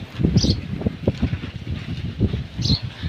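Gusty wind from a strong village windstorm buffets the microphone in low rumbling bursts, with faint higher whooshes, loud and close throughout.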